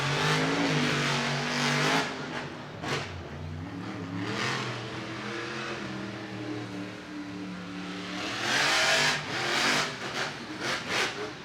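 Bakugan Dragonoid monster truck at a Monster Jam stadium show in Orlando, its engine roaring loud and close as it revs, drops pitch and surges again while circling the track, with crowd noise behind.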